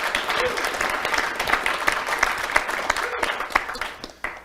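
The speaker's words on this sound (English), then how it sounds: "please give them all a round of applause for all their contributions and hard work" Audience applause at a conference panel discussion, a dense round of clapping from a seated crowd that holds steady and then thins out toward the end, with a few sharp individual claps trailing off.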